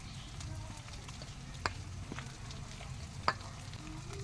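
Soybean chunks fry with tomato and spices in a pan, giving a steady low sizzle broken by a few sharp scrapes and clicks as the mixture is stirred, close and moderately quiet.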